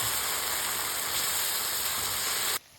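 Mutton liver masala cooking in a pan, a loud steady sizzle and hiss filling the whole stretch, then cutting off abruptly near the end, with no talking.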